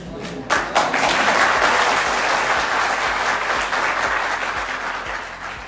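An audience at a literature festival talk breaks into loud, dense applause that starts abruptly and carries on steadily, fading slightly toward the end.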